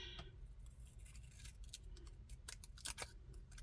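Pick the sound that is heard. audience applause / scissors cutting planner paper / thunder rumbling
scissors cutting planner paper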